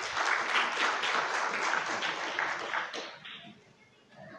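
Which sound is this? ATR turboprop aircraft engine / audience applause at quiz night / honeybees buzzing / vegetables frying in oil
audience applause at quiz night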